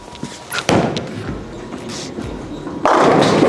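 A bowling ball rolls down a lane, a steady rumble building before a louder crash as it strikes the pins near the end; no talk is heard.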